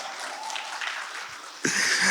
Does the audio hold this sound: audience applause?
yes